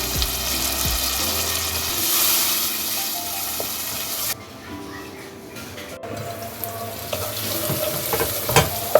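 Water is added to a pan of chicken gizzards frying with spices, giving a loud hiss and sizzle followed by bubbling and splashing, then quieter frying with a few clinks near the end.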